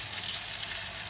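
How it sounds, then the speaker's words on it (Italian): Chicken scaloppine with lemon sizzles steadily in a pan after wine is added, a close, continuous hiss of frying liquid with no pauses. "Si stanno cuocendo con il vino, bello, si sta sfumando"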